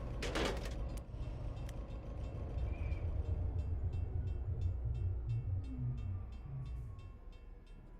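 A locomotive engine in Train Sim World 2 shuts down, its low diesel rumble running steadily beneath a sharp mechanical clatter at the start, a faint whistle-like tone, and a gradual fade toward the end.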